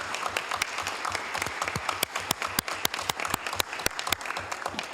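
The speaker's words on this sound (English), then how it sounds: "let's give everybody who works in public service a big round of applause" A city council meeting crowd applauds, a dense run of claps from a moderate distance that continues for several seconds without talk.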